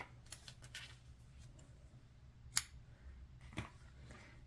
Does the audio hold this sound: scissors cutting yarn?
yes